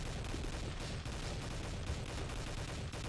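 Rapid gunfire from an in-game weapon in the online shooter Army Force Online, a dense, continuous stream of shots held at steady loudness for the whole stretch, with no voices over it.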